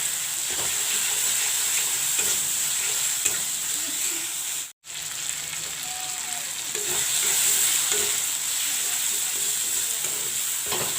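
Cut-up tomatoes fry in masala, sizzling and hissing steadily in the pan with occasional stirring, broken by one brief silent gap.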